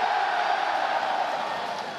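A large crowd cheers and shouts at BlizzCon during the Hearthstone opening ceremony, a steady, dense roar of voices that holds without a break for about two seconds.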